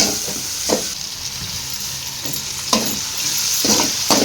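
Cinnamon sticks and fennel seeds frying in hot oil as the base for a chicken dish, a loud continuous sizzle broken by several scraping stirs of a spoon against the pan.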